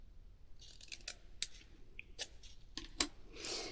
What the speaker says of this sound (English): And then you're going to cut down to that halfway point.